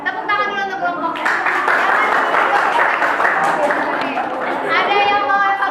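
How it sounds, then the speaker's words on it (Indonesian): A school class applauds a student theatre group, with chatter and voices at the start and end and a burst of lively clapping and cheering in between. "Tepuk tangan dulu untuk kelompoknya."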